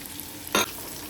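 Carrots and beans sautéing with garlic in a pan get a single brief stir, a short scraping rustle over a faint low sizzle.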